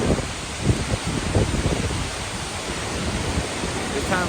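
Skogafoss, a massive waterfall in Iceland, roars with broad, steady rushing water close by, a dense unbroken wash of noise with no clear voice above it.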